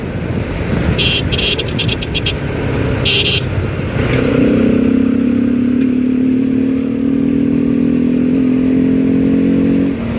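A modified Bajaj Pulsar RS200 motorcycle engine idles with light clatter, then revs up into a steady, loud, close drone that holds for several seconds.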